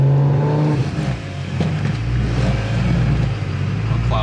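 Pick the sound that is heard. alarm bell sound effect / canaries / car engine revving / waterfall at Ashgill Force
car engine revving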